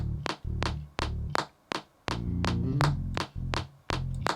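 Low bass notes hum under a fast beat of sharp, evenly spaced clap-like hits at about 165 BPM, the bass swelling and dropping out between hits.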